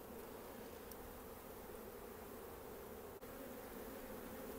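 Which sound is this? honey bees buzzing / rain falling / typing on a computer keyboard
honey bees buzzing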